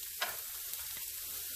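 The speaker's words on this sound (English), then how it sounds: "starting off with half of a medium yellow onion in a hot pan with olive oil" Half a medium yellow onion sizzling in a hot pan with olive oil, a dense, steady hiss up close with a couple of soft stirring scrapes.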